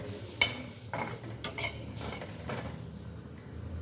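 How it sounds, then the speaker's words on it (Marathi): Cumin seeds roast in a pan while a spoon stirs them, giving a few sharp metallic clinks and scrapes against the pan over a quiet background, with no speech. "जिरे हलकेसे हलवायचे आणि भाजत आले की नाही"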